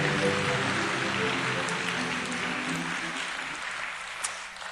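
A church congregation applauds during a Sunday service, a broad wash of many hands clapping that stays even and slowly eases off toward the end.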